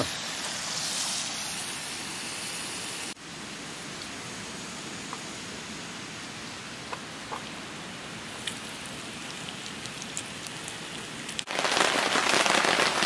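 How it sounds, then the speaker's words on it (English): Steady rain shower in Snowdonia, Wales patters on a surface as a continuous hiss, with occasional louder drops, heavier at the start and end. "with it being Wales, the rain started just before. Unexpected shower."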